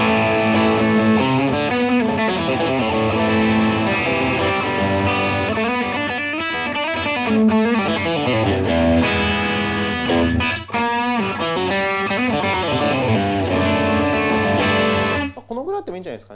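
Electric guitar played through a 1995 overdrive effects unit with the drive turned to maximum, thick sustained distorted notes and chords ringing loud and continuous before cutting off near the end.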